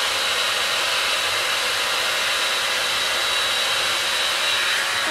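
A Kristin Ess hot air blow dry brush runs steadily, a loud, constant whooshing roar with a faint high whine and no pauses.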